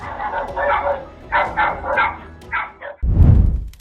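Dogs barking at night in a town street, a run of sharp, repeated barks and yips at close range, ending with a sudden low thump.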